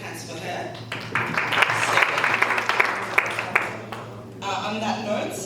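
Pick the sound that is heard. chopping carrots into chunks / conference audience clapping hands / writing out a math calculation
conference audience clapping hands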